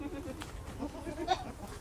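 Faint goat bleats rise briefly over a low background murmur, with a slightly louder bleat near the end.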